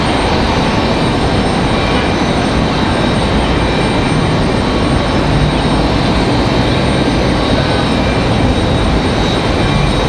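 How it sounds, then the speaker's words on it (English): A CRJ regional jet arriving at Raleigh-Durham from JFK gives off a loud, steady engine roar close by, dense and unbroken from start to finish, with no voices over it. "Coming in from JFK is going to be another CRJ."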